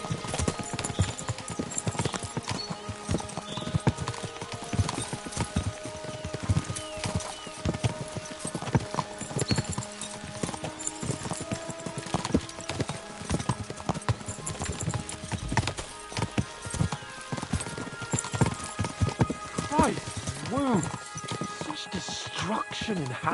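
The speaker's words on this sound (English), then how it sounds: "We should spur the horses on." Horses gallop in Kingdom Come Deliverance 2 with steady, dense hoof clip-clop running throughout, an occasional whinny, and voices talking over the ride.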